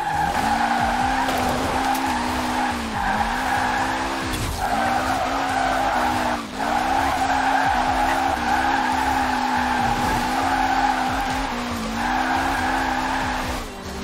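Mitsubishi Lancer Evo VIII drifting in Forza Horizon 4, with a loud, continuous tire squeal over a steady engine note that rises and falls in repeated swells across the whole clip.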